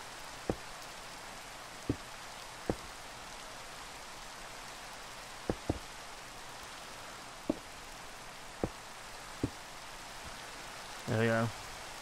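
A soft, steady hiss of rain is punctuated by scattered individual drips and taps, and a short burst of another sound comes near the end.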